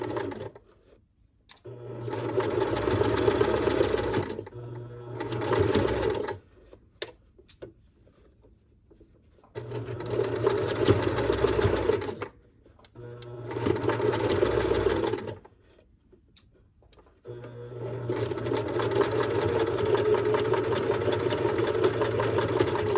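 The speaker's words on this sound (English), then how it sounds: "And I do want to back stitch because this is the actual seam." A sewing machine back stitching a gathering seam runs in bursts of steady mechanical whirring, loud and close, separated by short quiet pauses, with no talking.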